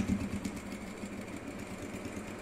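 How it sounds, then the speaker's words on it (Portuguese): Sewing machine stitching a fabric pencil case made from scraps, a soft, steady mechanical whir and tapping running quietly throughout. "vou continuar a costura da onde eu parei"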